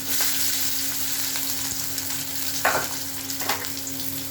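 Steady crackling sizzle of onions frying in hot oil, continuous and close, with a couple of brief scraping stirs near the end.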